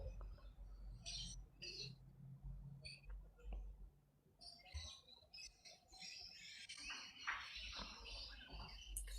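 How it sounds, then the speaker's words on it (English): Birds chirp outdoors in scattered short tweets and squeaky calls, faint and somewhat distant, mixed with low rumbling noise and brief bumps. "I hear the birds. You got some birds over there."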